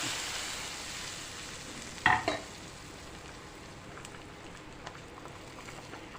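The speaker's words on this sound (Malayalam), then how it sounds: "നമുക്ക് തിളച്ചുകൊണ്ടിരിക്കുന്ന" A brief sharp sizzle as hot tempering is poured into a simmering fish curry in a clay pot, then a quiet low bubbling with faint spatters.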